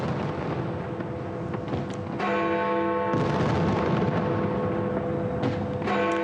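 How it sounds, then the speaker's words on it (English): New Year fireworks over the River Thames in London go off as deep booming blasts and rumbling reports, a few sharp bursts spaced apart over a steady background roar. "spectacular fireworks that were displayed in London"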